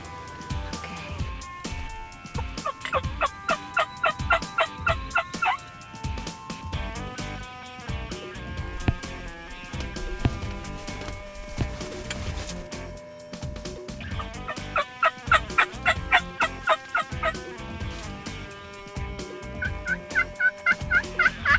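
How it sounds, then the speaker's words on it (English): Wild turkeys gobble repeatedly along a riverbank, their rattling calls loud and close over steady background noise. "a turkey coming down the riverbank, strutting and gobbling and carrying on"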